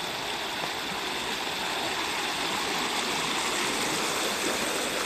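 A shallow, clear river stream in Yamaguchi flows with a constant, full broadband rush of water, close and steady without any break.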